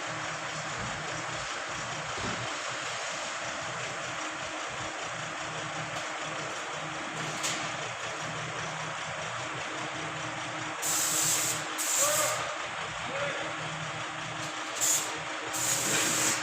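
A 2019 Hyundai Tucson with a D4HA engine running rough and misfiring, giving a steady, loud, close rushing engine noise with brief louder bursts toward the end. No one speaks.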